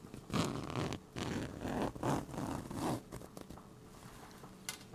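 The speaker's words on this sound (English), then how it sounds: "Zipper sound, the zipper sound, the zipper sound." A zipper is pulled in several short, raspy bursts, close and fairly quiet, with brief pauses between strokes.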